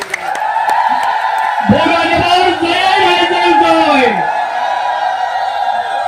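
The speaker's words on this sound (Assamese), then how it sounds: "আপোনালোকে সকলো হাত চাপৰি দিয়ক আৰু এতিয়া সকলোৱে উৰুলি দিয়ক।" A crowd ululates with high warbling trills and cheers, sustained loud voices filling several seconds, with clapping mixed in, at a foundation-stone laying ceremony.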